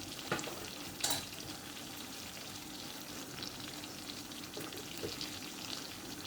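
Spices and chili powder sizzle in oil for a spicy yam curry, a steady soft frying hiss with a couple of brief stirring clatters near the start, no voices.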